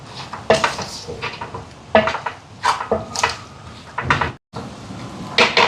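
Mint, coriander leaves and ginger stirred in a pot for soya meat biryani, heard as a series of sharp metal scrapes and clanks from a spoon against the pot, arriving in irregular bursts with a brief silent gap.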